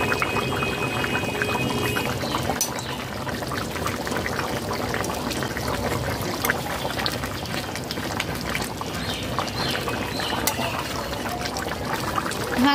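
A tablespoon of ghee goes into a pot of simmering chicken and potato curry, its soft pour blending into a steady close bubbling and sizzling that runs throughout without speech.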